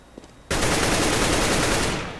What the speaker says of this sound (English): Oh, those shots.